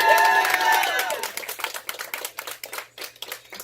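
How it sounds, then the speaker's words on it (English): Applause for a performer's wife at a live poetry show in an Orlando coffee house, a brief swell of clapping and cheering at the start that quickly thins into scattered claps while a voice fades out. "Give her a nice round of applause."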